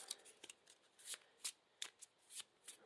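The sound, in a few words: shuffling an obligation card into the deck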